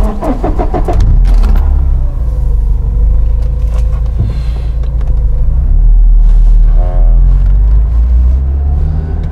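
A Porsche 944's four-cylinder engine cranks and catches with a short burst of starter clatter, then settles into a steady, loud, low idle rumble that holds close and continuous, with faint rattles over the drone.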